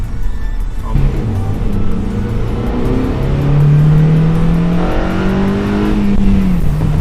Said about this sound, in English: Really hear that intake when you're driving and you give it a little bit of gas.